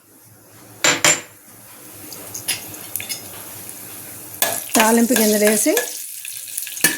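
Mustard and seasoning seeds hit hot oil while making a tamarind and yellow cucumber pickle tempering, giving crackling sizzles with utensil clinks and scraping, busiest toward the end, under a brief spoken word.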